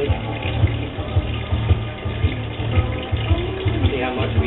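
Liquid pours steadily into a measuring jug during home brewing on a Speidel Braumeister, a continuous close splashing stream with rhythmic gurgling pulses and some background speech.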